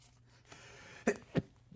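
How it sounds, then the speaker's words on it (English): A short, muffled sneeze-like burst followed by a second sharper one, close by, over a quiet background hum. "I have to sneeze."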